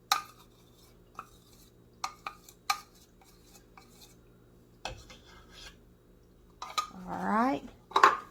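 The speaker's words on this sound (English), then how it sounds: "usually I make sure I stir it real good, try to get that peanut butter melted a little bit" A spoon stirs and scrapes a peanut butter mixture in a metal pot for no-bake cookies, with sparse clinks and scrapes, then a longer rubbing stir near the end, close and fairly quiet.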